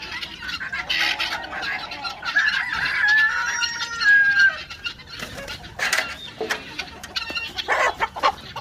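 A rooster crows loudly and nearby among clucking chickens, with a few flutters and scattered calls from the flock afterward.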